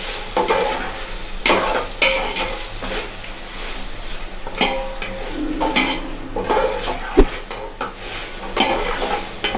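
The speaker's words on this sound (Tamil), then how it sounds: "பச்சை வாசம் போனதுக்கப்புறம் தக்காளியை போடணும். நெக்ஸ்ட் பார்த்திங்க அப்படின்னா நல்லா கிண்டணும்." Onions and tomatoes being stirred in a pan for mushroom biryani, with a steady sizzle under repeated scraping and clinking of a spoon against the metal pan, close up and with no voices.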